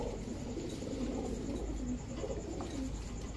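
Pigeons coo softly over a steady background hiss, the low, rolling calls repeating and overlapping at close-to-moderate distance.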